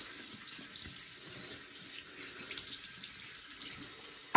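Faucet water running steadily into a sink while a shaving brush is rinsed, a soft, continuous splashing hiss heard up close, ending in a slightly louder splash.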